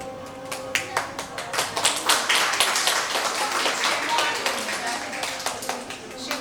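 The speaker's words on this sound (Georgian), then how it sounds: "აპლოდისმენტები" An audience at a children's studio graduation claps in a steady patter of applause, moderately close, with a voice talking over the clapping.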